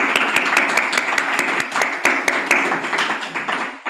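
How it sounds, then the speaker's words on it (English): Audience applause for poets at a poetry celebration reading, a steady wash of many hands clapping close by with scattered sharper individual claps standing out, holding fairly even for the whole stretch. "Another round of applause for all of our poets, please."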